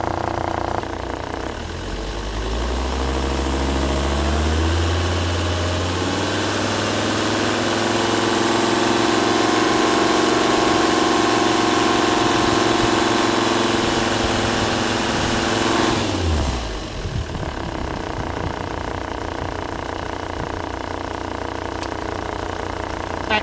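A car engine close by revs up smoothly to 2,500 rpm, holds a steady higher pitch for several seconds, then drops back to idle.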